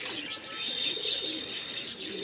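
Pet pigeons, a mix of desi and Punjabi breeds kept by a seller, coo softly in a steady, low murmur with faint chirps over a constant background hiss.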